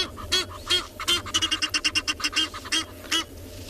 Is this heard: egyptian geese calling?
yes